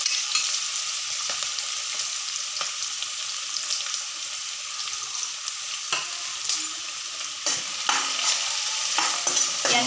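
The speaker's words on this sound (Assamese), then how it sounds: "পিঁয়াজখিনি আৰু আদা নহৰুখিনি অলপ ভাজি ল'ম।" Onion, ginger and garlic fry in hot oil with a steady, loud sizzle, broken now and then by sharp clicks and scrapes of stirring.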